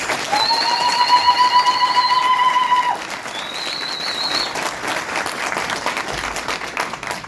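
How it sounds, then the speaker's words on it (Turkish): Long, high, wavering zılgıt ululation cries ring out over steady crowd applause at a political party primary gathering, loud and close, the clapping continuing after the trills stop. "sizlerin zılgıt ve alkışlarıyla selamlarımızı gönderiyoruz"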